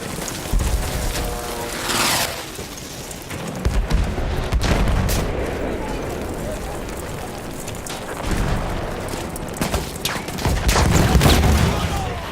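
Repeated heavy cannon booms and blasts of gunfire in the video game Battlefield 1, dense and loud, rumbling through a continuous barrage with brief lulls between bursts.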